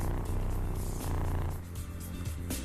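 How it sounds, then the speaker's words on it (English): A cat purrs steadily and close up, a continuous low rumble with a soft rhythmic pulse that carries through the whole stretch without any talking. "I can hear that purr."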